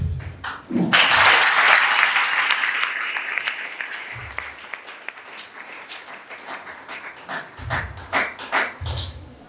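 Church congregation bursting into applause during a sermon, a loud wash of clapping that swells and slowly fades, followed by scattered claps and low thumps, no talking.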